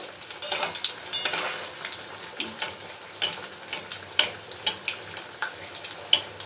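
Stuffed spiny gourd (kakrol) fries in oil over medium gas flame, a continuous close sizzle broken by sharp scraping clicks of a spatula spooning oil over the top, with no talk.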